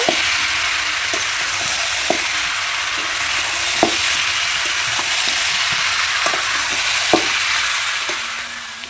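Chicken curry with fried potatoes and papaya sautés in a pot over a clay stove. There is a loud, steady sizzle throughout, with scattered sharp clacks of a spoon stirring against the pot.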